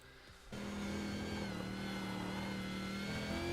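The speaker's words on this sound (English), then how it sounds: "putting on a bit of a drift show for us at the moment" A V8 race car drifts around the Okayama circuit in the iRacing sim, its engine note jumping to a loud, sustained high-revving whine after a brief quieter moment at the start.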